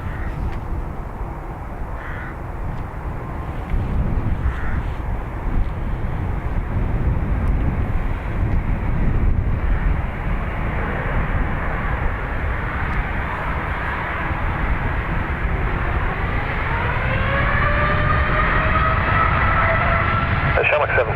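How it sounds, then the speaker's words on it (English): A Qatar Airways Boeing 787 Dreamliner departing from Dublin Airport, a continuous engine roar that holds steady and rises into a whining tone toward the end, with crows cawing and voices over radio traffic. "So QR 18 back to Doha, Qatari Dreamliner."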